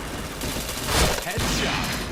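Dense gunfire from the online shooter PointBlank, a continuous loud fusillade of overlapping shots with a heavier burst near the middle, filling the whole stretch.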